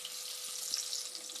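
Chopped onions sizzle in a hot pan while preparing spaghetti, a steady bright crackling hiss with small pops throughout.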